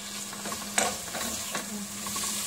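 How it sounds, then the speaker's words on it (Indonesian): A spoon stirs tomato sauce in a pan for a homemade pizza, with soft scraping strokes and a low steady sizzle close by, one sharper clink near the start and no talking. "Nah, kita aduk, kita kasih air."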